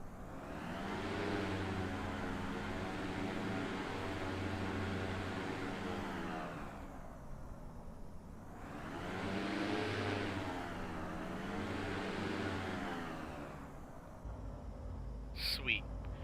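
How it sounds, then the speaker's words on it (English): A loud, steady engine drone with deep rhythmic chopping from the propellers of a twin-engine Diamond DA42 in Microsoft Flight Simulator, swelling and easing in long waves as if passing close; a brief sharp chirp near the end. "I like the sound of the propellers actually chopping through the air."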